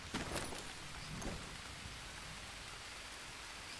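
Steady rain falling in the jungle survival game Green Hell, a dense even hiss of downpour with a few louder drop patters near the start, continuing unbroken throughout.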